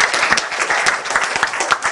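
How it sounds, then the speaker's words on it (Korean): Steady, dense applause from a seated class audience in a lecture on human-centered design, loud and continuous with no talking over it. "박수 한번 쳐주세요."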